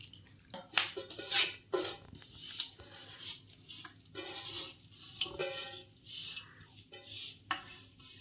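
Mango pickle mixture being stirred in a bowl, a series of wet, squelching scrapes and clinks in uneven bursts, close and fairly quiet.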